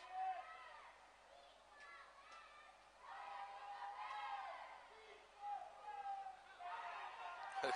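A team cheers at an outdoor park cricket match in the Lodha Park Premier League, with bursts of shouting and whooping voices rising and falling over the crowd.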